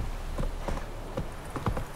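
Horse hooves clip-clop in The Witcher 3: Wild Hunt as a mount walks at an unhurried, uneven pace. Several soft, close hoof strikes sound over a low ambient game background.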